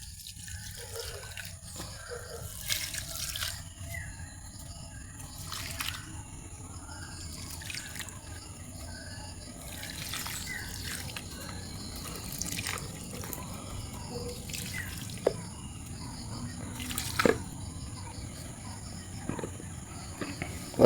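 Water trickles and splashes onto potted flower plants during watering, a quiet, uneven pour with scattered drips and a few sharper splashes over a low background.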